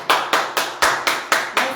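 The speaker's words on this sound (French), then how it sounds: "On applaudit pour elle." Applause for a donor, heard as seven evenly spaced, crisp claps in a quick steady rhythm, close and fairly loud, with no talk over them.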